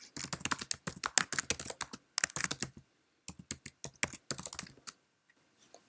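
Keys clack on a Mac keyboard as a file name is typed, a brisk, close run of light taps in uneven bursts with short pauses between words.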